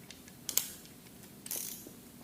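A torque wrench tightens oil pan bolts on a 6.1L Hemi engine, giving a few quiet ratcheting clicks and one sharp click close by, with nobody talking.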